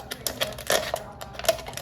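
A knife blade saws and scrapes through the thin wall of an aluminium pop can, giving a run of short, sharp clicking cuts with a denser crunch in the middle, close and fairly quiet.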